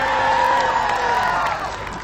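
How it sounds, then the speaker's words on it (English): A crowd of Australian football fans, gathered to watch a Women's World Cup match, sends up a loud continuous cheer with whoops and shouting voices blending into a dense roar. "Big cheer if you're a member of the Red Devils."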